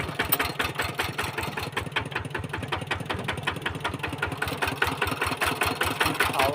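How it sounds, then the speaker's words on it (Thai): A farm tractor engine runs steadily on the way down to a rice field for the morning harvest, with a fast, even mechanical chugging that stays loud and close throughout, no voices. "ขับรถไถลงไป"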